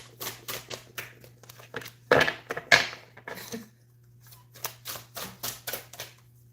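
A deck of tarot cards is shuffled by hand in quick bursts of riffling and flicking, close and crisp, with a louder pair of riffles in the middle.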